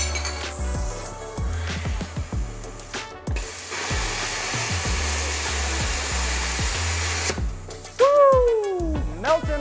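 A Cutmaster 70+ plasma cutter slices through aluminum plate with a steady loud hiss and roar, with rhythmic pulsing underneath, then a sharp change as the cut finishes.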